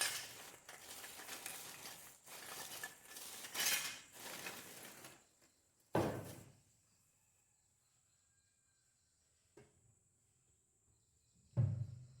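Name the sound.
metal puja vessels clinking as they are stored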